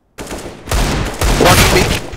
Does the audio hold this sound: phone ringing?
no